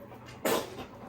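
A dog gives one quick, sharp sneeze close by, a single short burst against a quiet indoor background.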